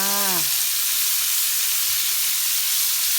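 Food stir-frying in a hot pan at home gives a steady, loud, broad sizzle with steamy hiss that runs the whole time, while a short voice sounds at the very start.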